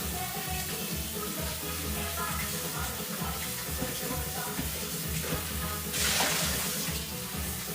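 Tap water runs steadily into a Thermomix TM7 bowl to rinse it, a dense continuous splashing rush close up that swells briefly near the end.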